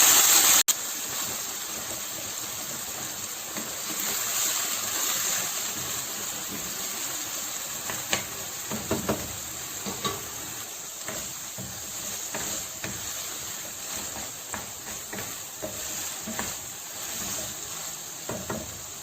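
Minced meat frying with onion in oil for keema kachnar gives off a continuous hiss and crackle. Small spatters and stirring scrapes rise and fall across the long stretch.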